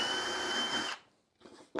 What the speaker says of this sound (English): drilling a hole through each of the parts of the face